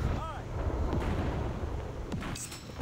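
Yamato battleship cannons fire in War Thunder Mobile, booming heavy naval gunfire dense and continuous across the moment, with a voice talking over the barrage.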